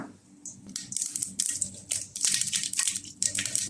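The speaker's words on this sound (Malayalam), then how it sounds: "കടുക് പൊട്ടി വന്നിട്ടുണ്ട്." Mustard seeds splutter in hot coconut oil in a pan, giving off sharp, irregular bursts of crackling and popping close by, with no talk.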